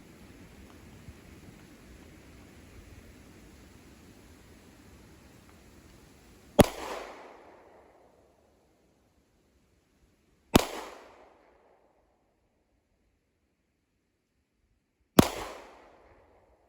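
Three sharp, loud pistol shots from a Sig Sauer P365x fired at 7 yards, spaced several seconds apart with brief echoing decays, each preceded by near silence after a faint noisy stretch.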